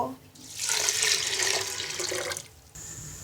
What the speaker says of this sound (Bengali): এবার ডালটা সেদ্ধ হওয়ার জন্য পরিমাণ মতো পানি দিয়ে দিব